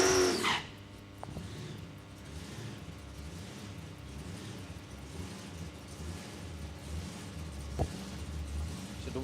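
A Ford and a Chevy drag car at Palmyra Raceway, Australia, rumble low with a wavering, pulsing engine note, somewhat distant, with sharp pops near the start and again toward the end.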